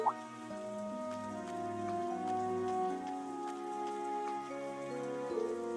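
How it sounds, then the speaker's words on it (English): Heavy rain falls in a PS4 role-playing game scene, a steady hiss of drops spread under sustained background music throughout. "I didn't think it was raining this hard."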